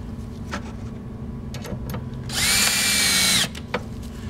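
A power drill drives screws into the mounting bracket of a drinking fountain and bottle-filling station, with one loud, steady whir of about a second rising over faint background clatter and a few small knocks.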